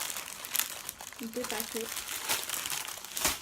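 Plastic document sleeves rustle and crinkle as they are handled in their packs, soft scattered crackles close by under someone speaking briefly.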